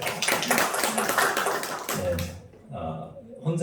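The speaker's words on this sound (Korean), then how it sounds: "우리 성도님들 큰 격려의 박수를 생각드리면 좋겠습니다" A church congregation applauds a pastor during a Sunday praise service, dense clapping filling the first two seconds, then fading into scattered claps and talk as someone speaks over the room.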